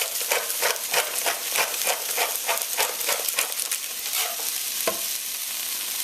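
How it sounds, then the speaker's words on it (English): Yard beans stir-fried in a hot pan over medium-high heat: a loud, continuous sizzle broken by a quick run of rhythmic tossing and scraping strokes, close up with no talking. "Just add a quick stir."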